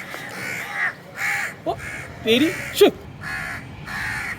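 Crows caw several times on a rooftop, loud, harsh calls in short bursts that come up among and under excited talk from people.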